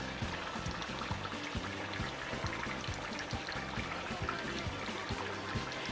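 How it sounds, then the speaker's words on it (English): Ground oat bran being poured into boiling water for fufu, a continuous close hissing, bubbling pour with a soft rhythmic rumble underneath, steady and unbroken for several seconds with no voices. "I am going to add my ground oat bran to the water."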